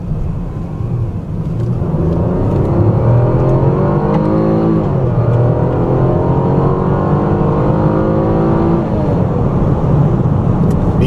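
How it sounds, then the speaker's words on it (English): 2014 Chevrolet Impala with a V6 accelerating, a loud steady engine drone heard from inside the cabin, rising in pitch through two gear shifts over a rumbling road noise. "V6 has plenty of acceleration power."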